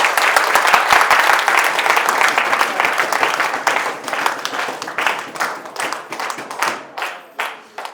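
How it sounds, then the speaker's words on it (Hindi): Audience applause at a business address, dense and loud at first, then thinning into scattered individual claps that fade away by the end. "तालियों में दम नहीं है, थोड़ा जोर से बजाइए।"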